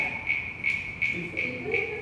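Spring peeper frogs call outdoors with a steady, high, shrill peeping that pulses about three times a second. Low, faint voices murmur underneath toward the end.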